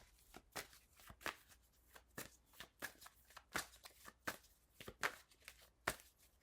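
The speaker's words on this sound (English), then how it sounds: "Shuffling on camera." A deck of cards is shuffled over and over, a steady run of crisp riffling bursts close to the mic.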